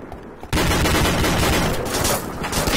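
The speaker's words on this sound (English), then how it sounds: "South tower is taking fire from the south" Burst of rapid gunfire from a military shooter video game, erupting suddenly after a quiet moment and continuing as dense, loud overlapping shots with no talk.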